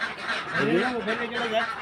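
Ducks let out of a duck farm pen honk and quack in a short, lively cluster of calls close by, with a voice faintly present alongside.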